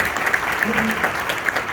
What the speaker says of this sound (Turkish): buna bir alkış rica edeceğim